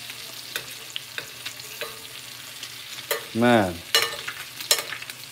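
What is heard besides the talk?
Chilean seabass basted with butter in a sizzling pan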